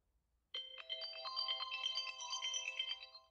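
A phone ringtone plays alone, starting abruptly and continuing as a steady electronic melody of bright, closely spaced tones at moderate volume.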